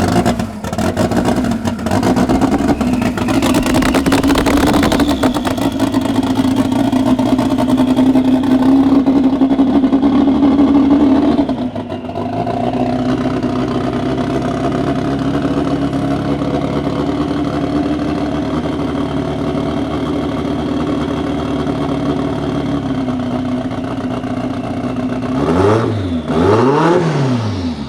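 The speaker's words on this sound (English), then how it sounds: "That is the sound of a 500 horsepower Volkswagen engine." A 500 horsepower Volkswagen engine in a custom Beetle race car revs hard and loud up close, climbing to a sustained high note, dropping to a rough idle, then blipping sharply twice near the end.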